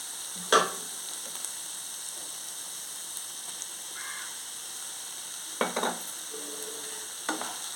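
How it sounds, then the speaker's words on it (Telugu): Amaranth leaves stir-fry in a pan as coconut chili powder goes in, giving a soft steady sizzle broken by a few scattered clinks and brief scraping stirs. "తోటకూర వేగిపోయింది ఇప్పుడు మనం కొబ్బరి కారం వేసేసుకుందాం"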